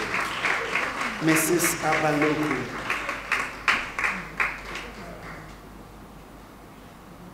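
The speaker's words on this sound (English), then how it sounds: "Oh, shall we continue to applaud" Audience applause at the inauguration ceremony of a retirees association, a dense burst of clapping that swells near the middle and then tapers off. A voice speaks over it near the end.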